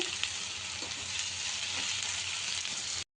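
Chicken frying in a pan with salt for a masala curry, a steady close sizzle with a few light stirring clicks, and no voices.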